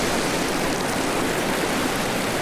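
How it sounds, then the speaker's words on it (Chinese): A foley artist producing a waterfall sound effect for film, a dense, steady hiss of rushing water that fills the whole stretch at an even, loud level without any voices. "另一位拟音师接着制造瀑布声"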